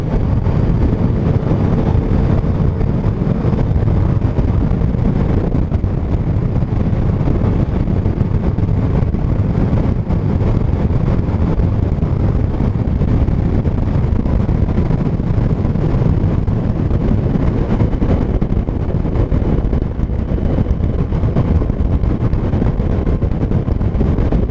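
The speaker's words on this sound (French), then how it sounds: "Il y a du vent, il y a du vent." Steady, loud wind roar buffets the microphone on a Yamaha Niken three-wheeled motorcycle ride, a dense low rumble with no break for the whole stretch.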